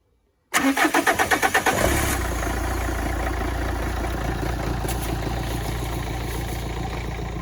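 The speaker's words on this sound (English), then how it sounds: "we can start the engine on the donor car" A car engine on a donor car cranks with a rapid chugging rhythm for about a second, catches, and settles into a steady, loud idle close by.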